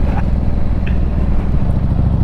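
A Yamaha Virago 1100 motorcycle at full throttle on a road, its engine a steady, loud, low rumble droning continuously with wind noise throughout.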